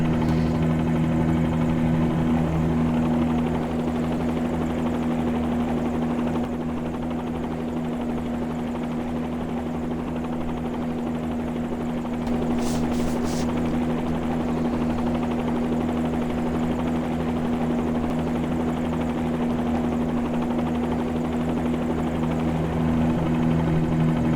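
Helicopter in Microsoft Flight Simulator over the Hong Kong city skyline, a steady loud rotor and engine drone that holds without a break, no voices.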